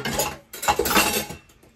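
Dishes, pots and cutlery clattering and clinking as they are washed at a home sink in Seoul, South Korea, a close, steady run of scrapes and knocks that fades out near the end.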